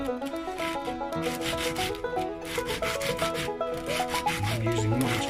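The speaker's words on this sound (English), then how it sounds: "Tubes need rubbing on sandpaper just to give it a bit of key up for the glue." Metal pen tubes rubbed back and forth on 920 grit sandpaper, a repeated close scratchy rasping with steady strokes.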